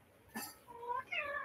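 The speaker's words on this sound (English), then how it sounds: "I need to let my cat out because he's going to keep interrupting this." A house cat gives two short, clear meows in quick succession, close to the microphone in a quiet room.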